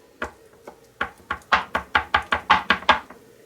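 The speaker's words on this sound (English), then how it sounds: "First thing I'm going to do is slice it up smaller." A knife chops through boiled pig head meat on a board in a run of about a dozen sharp, close knocks that speed up and grow louder toward the end, with no talking.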